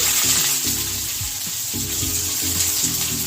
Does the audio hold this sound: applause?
no